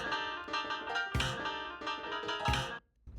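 A fast-drummed track plays at full mix: rapid, punchy drum hits drive dense layered instruments, then the music cuts off abruptly near the end.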